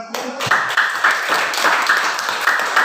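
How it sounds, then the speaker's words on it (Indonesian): Students in a classroom clapping for a classmate after her summary of the lesson: dense overlapping applause from a group, steady and fairly loud, with periodic accented beats. "tepuk tangan untuk Justina"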